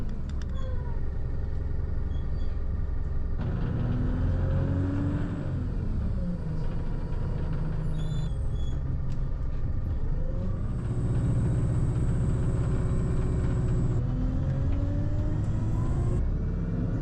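A bus drives a full loop through the seaside town of Beer in Devon, its engine rumbling steadily from close by, with gear changes rising and falling in pitch throughout. There is no talk.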